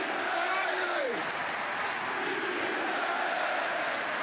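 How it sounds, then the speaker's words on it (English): A large arena crowd at an AEW wrestling event roars and applauds in a dense, continuous wash of cheering, loud and steady throughout, with a commentator's voice partly audible. "There's crowd chant."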